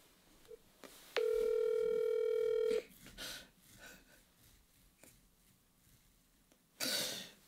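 A single long steady calling tone of an outgoing phone call rings out, loud and close, followed by quiet room noise, a throat clear and a brief burst of sound at the end.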